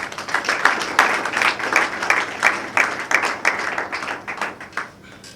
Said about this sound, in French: je prie à l'assistance de pouvoir d'abord, sans voir, applaudir les acteurs